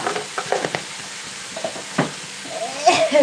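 Turmeric, chili powder and coriander powder stirred into a sizzling pan, with repeated close scraping strokes over a soft frying hiss that swells toward the end.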